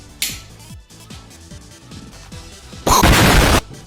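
A can of energy drink cracks open with a sharp burst of fizzing hiss lasting under a second, following a quieter stretch of low background rumble and small handling taps.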